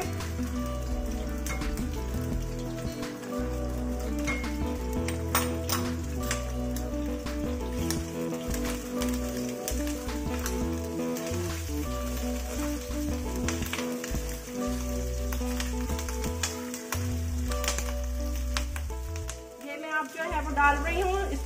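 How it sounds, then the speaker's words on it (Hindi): Ginger and garlic fry lightly in a pan for chicken Manchurian, a steady soft sizzle running throughout with faint clinks, ending in a brief louder crackle. "लाइट से बस इसे फ्राई करेंगे"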